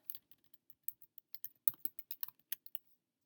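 Rapid bursts of clicks from a computer keyboard, close and fairly faint, tapped out in quick irregular clusters with brief pauses over a few seconds.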